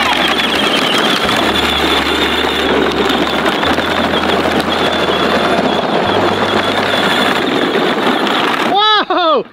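A kids' tractor on a hay farm runs with a steady engine drone throughout, loud and close, with talking over it and a short whirring burst near the end.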